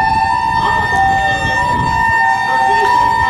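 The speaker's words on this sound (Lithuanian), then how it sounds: "kai greitoji sako pasitrauk" A wailing ambulance siren on a street in Japan holds loud, steady tones throughout, while a voice speaks over it.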